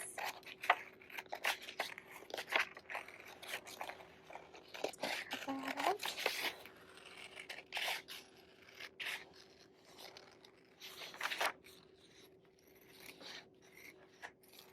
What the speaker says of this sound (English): So just going to cut along here with our scissors.